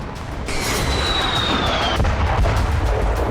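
A loud, continuous roar of blasts with a descending whistle overhead as an Israeli missile strikes a gas station in Lebanon, followed by sharp booms near the end.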